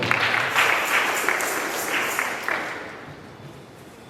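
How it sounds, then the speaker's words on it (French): A church congregation bursts into applause during a Sunday sermon, with sustained, dense clapping from many hands that gradually fades away over a few seconds. "Acclamons très fort le Seigneur."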